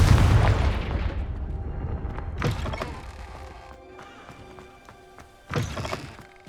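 In Hogwarts Legacy, a Confringo blasting curse erupts with a deep opening boom, then two more thudding bursts a few seconds apart, each trailing off into a ringing rumble.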